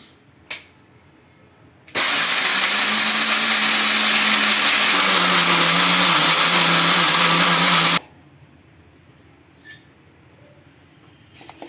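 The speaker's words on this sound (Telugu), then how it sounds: "ఇప్పుడు కొద్దిగా చింతపండు వేసుకొని ఫస్ట్ ముందుగా గ్రైండ్ చేసుకోవాలి" A kitchen mixer grinder pulverises garlic and tamarind for a broad bean masala curry: a loud, steady whirring grind that starts abruptly, runs about six seconds, and cuts off sharply, with a quiet room before and after.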